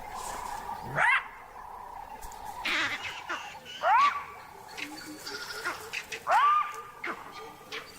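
A jackal gives sharp, rising barks, three prominent calls spaced a few seconds apart, over a quiet outdoor background with softer distant calls between them.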